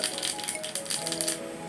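Mustard seeds spluttering in hot Parachute coconut oil, a quick run of sharp crackling pops lasting under two seconds, close and fairly quiet, with no talking.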